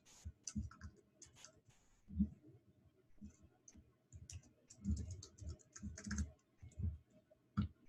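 Keys tapped on a computer keyboard while entering business card details, coming as irregular close clicks and light thumps in short bursts, quiet and with no one speaking.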